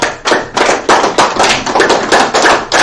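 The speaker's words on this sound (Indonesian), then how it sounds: "tepuk dulu." A seminar audience claps hands together in a loud, close burst of rapid, slightly uneven claps that continue steadily for a few seconds with no speech.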